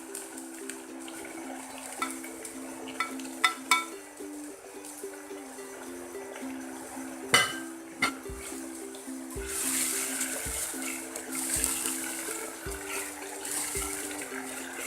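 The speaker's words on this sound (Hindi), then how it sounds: "हरी प्याज को 3 से 4 मिनट तक अच्छी तरह फ्राई कर लेंगे तेल में" Green onions fry in oil with garlic-ginger paste, a soft sizzle that grows into a brighter hiss toward the end, broken by a few sharp stirring clinks over a quiet tonal backing.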